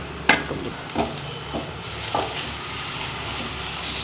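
Chitranna gojju mixture frying in a pan makes a steady sizzle, with a few scraping stirs at the start and a slightly louder, denser hiss toward the end.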